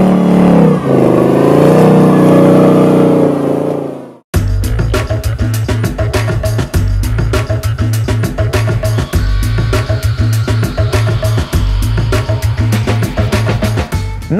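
A Ford Mustang Bullitt, held on line lock for a burnout, revs hard with a roaring, sustained engine note, then after a brief cut sounds a loud, choppy, rapidly pulsing roar, close and alone.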